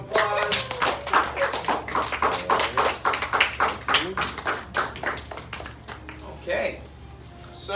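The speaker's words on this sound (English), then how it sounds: "give him a big round of applause" Applause breaks out at a public speaking school event, a small audience clapping in a fairly even rhythm of distinct hand claps that taper off toward the end, with some talk mixed in.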